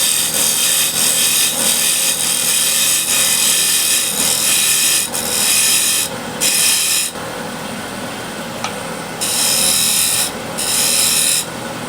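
A woodturning tool cuts a chamfer into a spinning wooden wheel on a lathe, giving a loud, steady rasping scrape that runs continuously with a few brief pauses, no voices.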